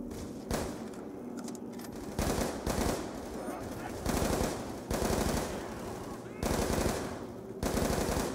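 Bursts of MTAR machine gun fire in Call of Duty Black Ops 2 Zombies, several loud rapid volleys separated by short pauses, with players talking in between.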